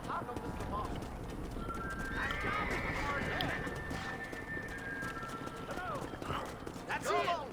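Horse hooves clip-clopping at a gallop with whinnies in Red Dead Redemption during a cattle drive, steady hoofbeats throughout and a talking player over the game sound.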